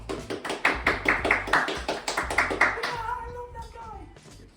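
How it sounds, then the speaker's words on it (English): A small audience claps in a run of loud, regular hand claps lasting about three seconds, then fading, with a voice speaking underneath toward the end. "You can applaud at this part."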